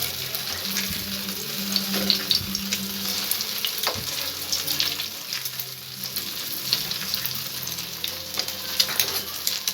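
Maida dough fries in oil on low heat and is gently turned over, a steady close sizzle broken by light scraping and clinks as it is flipped.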